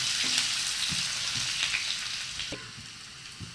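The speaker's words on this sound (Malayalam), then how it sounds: "ചെറുതായി അരിഞ്ഞ് വെച്ചിരിക്കുന്ന ഉള്ളി ഇട്ട് കൊടുക്കാം." Finely chopped onions fry with mustard seeds in hot oil, making a dense, continuous sizzle with a few soft stirring scrapes and taps of the pan, and no voices.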